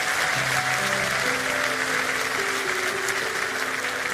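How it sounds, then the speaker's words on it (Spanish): An audience applauds those who joined in a prayer at a religious gathering, a steady sustained patter of clapping with faint tonal music sustained underneath and no speech. "Un aplauso a todos ellos que hicieron esta oración"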